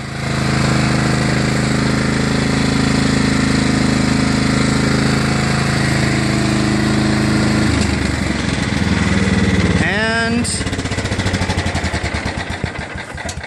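A John Deere LA105 lawn tractor engine runs steadily and loudly up close, a rough continuous drone that shifts in pitch partway through, with a brief mechanical whine near the end as it keeps going.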